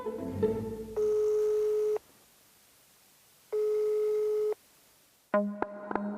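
Telephone tones on an unanswered call: two long steady beeps, each about a second, separated by silence, then a burst of rapid dial tones near the end, preceded by faint background noise.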